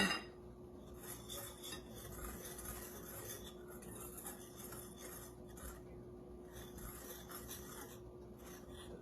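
Dry pancake ingredients, including baking soda, baking powder and salt, stirred together in a bowl, giving a steady soft scraping and clinking of a utensil against the bowl throughout, fairly quiet and with no talk.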